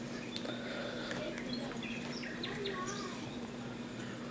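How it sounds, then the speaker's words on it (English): Birds chirp and call in a forest setting in Kingdom Hearts Birth By Sleep, with scattered bright tweets and whistles over a constant low background hum, continuing steadily throughout. "I hear birds"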